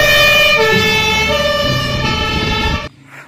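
A long toy fire truck's loud electronic siren blares continuously with engine rumble beneath, then stops abruptly near the end.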